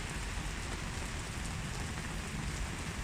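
Steady rain patters on a surface in an even, continuous wash with no breaks, and no voices over it.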